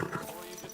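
Horse hooves clatter briefly in the medieval video game Kingdom Come: Deliverance II, a quick clip-clop with a voice speaking over it.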